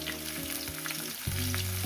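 Snake gourd frying in a pan, a steady close sizzle with clattering stir noises and a louder burst partway through, no talking.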